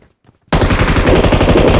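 Video-game gunfight with loud automatic gunfire bursting in after a half-second of near silence, sustained rapid shots continuing to the end.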